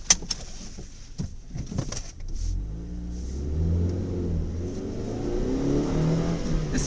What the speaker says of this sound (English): A nice, smooth little engine.